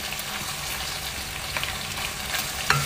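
Beef frying in a little olive oil for daging goreng sambal petai gives a steady, close hiss and sizzle, with light stirring scrapes and a sharper clink near the end.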